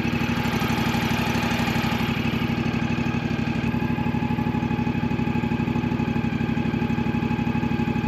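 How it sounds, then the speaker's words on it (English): A Toro Timecutter zero-turn mower engine holds a low idle, a steady, even throb that runs loud and close for the whole stretch without speech. "Okay, at a low idle."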